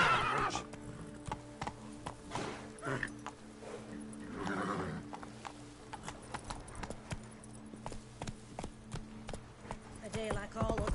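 The horse Roach trots in The Witcher 3, hooves clip-clopping in a steady rhythm with an occasional snort or whinny over a low game background, and a voice talks over it.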